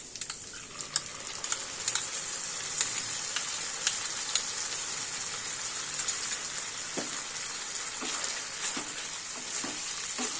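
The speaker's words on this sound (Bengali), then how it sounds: "ভালো করে একটু নেড়ে নিই" Cauliflower chilli batter in a hot pan gives a constant bright sizzle, with soft stirring scrapes and a few taps toward the end, close and steady, with no talking.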